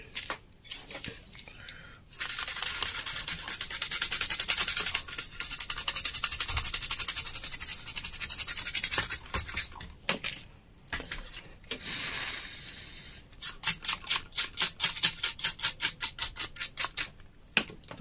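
Brush scrubbing a circuit board after soldering during repair of a Preethi Excel Plus mixer, close scratchy strokes in repeated bursts with short pauses, little talk.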